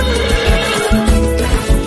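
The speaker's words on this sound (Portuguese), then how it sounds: "Relinchando o tempo todo pela casa fora." A loud horse neigh sound effect, a sustained, strained whinny with a harsh, buzzy texture filling the whole moment, close and alone.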